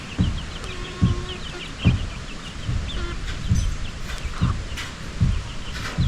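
A chicken clucks and cries near a house project site in Kenya, with repeated low thumping sounds at a steady pace and scattered bird calls in the background over about six seconds.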